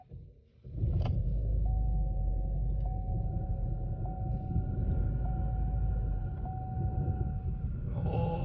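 Chevrolet Cruze engine idling roughly and unevenly, a steady loud low rumble with a faint repeating tone and a few brief knocks, close by and without speech.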